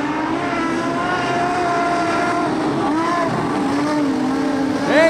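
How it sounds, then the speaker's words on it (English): Modified sedan race cars roar around a speedway during a heat race, with a continuous engine drone and rising and falling pitch as the cars pass, ending in a louder surge. "Shannon Blackburn on the charge late in heat race five."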